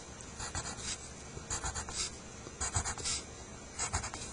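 A marker or pen draws short marking lines on cardboard for a shape loom's cut points, giving four bursts of quick scratchy strokes close up, each about half a second long, with quiet pauses in between.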